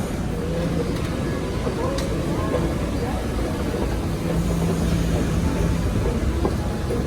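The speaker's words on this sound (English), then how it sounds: "Bye bye train." A passenger train rides the rails with a steady low rumble and rattle from onboard, continuous throughout, while people talk faintly in the background.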